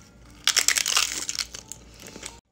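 Someone bites into a ranch-flavored crunchy taco shell filled with spaghetti, a close, loud burst of crackling crunches that breaks apart over about two seconds.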